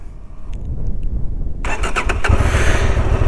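A Honda Transalp 750 motorcycle engine on sandy off-road ground idles low, then catches with a few quick bursts and climbs into a loud, sustained throttle growl up close, with no talking.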